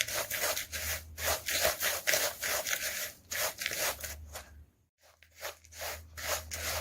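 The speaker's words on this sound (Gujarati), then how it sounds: "આ આપણે બરાબર મિક્સ કરી લીધું છે." Gond mukhwas is stirred together with powdered sugar, a close, dry scraping and rubbing that comes in repeated strokes, briefly stops, then resumes.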